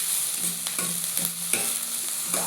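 Capsicum stir-fried in a hot pan for chilli garlic egg fried rice: a steady close sizzle broken by rhythmic scrapes and clacks of stirring every half second or so.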